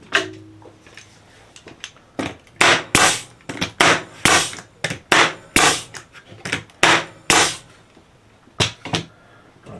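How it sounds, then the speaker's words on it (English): A staple gun fires inch staples into wooden boards for a simple holiday welcome sign, sharp loud snapping bangs in an irregular series of about fifteen shots, each standing alone against a quiet background. "we're still using the inch staples, so we don't run them too far through the boards"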